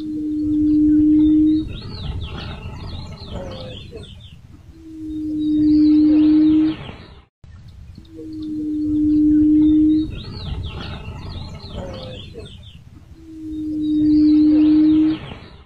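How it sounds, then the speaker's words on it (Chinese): Low humming calls attributed to a yellow-legged buttonquail, the so-called dragon call heard in Guizhou, China: steady droning hoots about two seconds long, repeated four times at a measured pace, fairly loud over a faint background. "官方认定最原始最标准的视频应该是这样的嗡嗡声"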